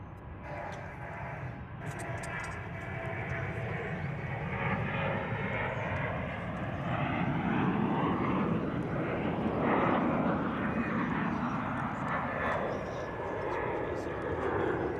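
An airliner takes off at Charlotte Douglas International Airport, its engine roar building to a loud, broad rush near the middle and then holding steady as it climbs away, with a voice talking now and then over it.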